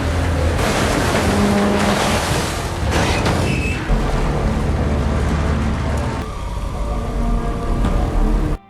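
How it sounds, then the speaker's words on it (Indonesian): Tsunami seawater surges and rushes over a car in a disaster film, a loud, continuous roaring wash of churning waves and turbulent water that holds steady throughout before cutting off abruptly. "gelombang air laut membanjiri mobil Lisa."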